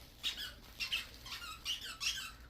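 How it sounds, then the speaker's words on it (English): A dog named Bandit chomps on a squeaky pea toy with a little face, from a farm-themed dog toy box, giving five fairly quiet, evenly spaced squeaks in quick rhythm. "You can hear him squeaking it."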